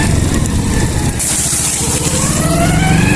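Engine of a modified, raised-height motorcycle running close by, a steady loud rumble with rising pitch toward the end as it revs, no talk over it.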